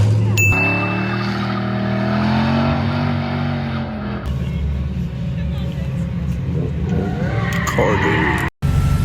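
A drift car at Newport Speedway revs hard with a loud, rising engine note and screeching tire skid, then the engine drones on under tire noise, close and loud, briefly cutting out near the end, with people talking over it.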